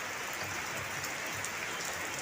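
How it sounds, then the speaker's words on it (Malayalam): Steady rainfall, a soft continuous hiss of drops on surfaces at a household in Kerala, holding an even level throughout with no voices. "ഇവിടെ മഴ പെയ്ത് അങ്ങോട്ടൊന്നും പോകാൻ പറ്റില്ല."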